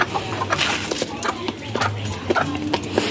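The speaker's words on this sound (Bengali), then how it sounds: "মুরগিগুলো খাবার খেতে ব্যস্ত" Domestic hens feeding let out soft, scattered clucks amid light pecking and scratching taps, close by and fairly quiet.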